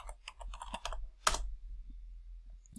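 A short flurry of computer keyboard keystrokes entering a command to launch Jupyter Notebook, close and crisp, followed by a single louder key press and then quiet.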